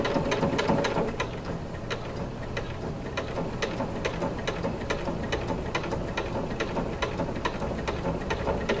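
A sewing machine stitches corset bone casings at a slow pace, its needle ticking in an even rhythm over a low motor hum, close and steady with no talk.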